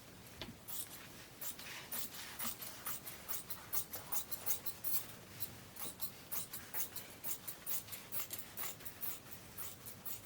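Scissors cutting through a pink cotton handkerchief: a quiet, close series of soft rhythmic snips and fabric rustles, repeating steadily throughout.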